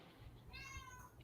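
A person imitates a cat's meow with a single short, drawn-out, quiet vocal cry, followed by a brief faint click.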